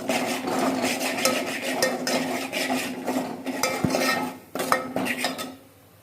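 Grated coconut, crushed peanut and powdered spices being sautéed in oil, with a spoon scraping and clinking against the pan in steady stirring strokes, close and fairly loud, no one talking.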